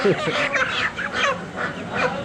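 Ducks at a poultry stall in the Rasht bazaar quack and honk loudly and up close, several overlapping calls in quick succession.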